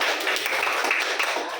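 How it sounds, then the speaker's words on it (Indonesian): Classroom applause for a student, a dense steady patter of many hands clapping at close range with scattered voices mixed in. "kasih tepuk tangan buat Pesi"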